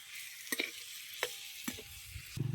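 A besan and curd mixture stirred in a pan, a few scraping strokes of the spoon against the pan over a faint, steady background sizzle.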